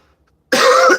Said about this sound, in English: this cough sucks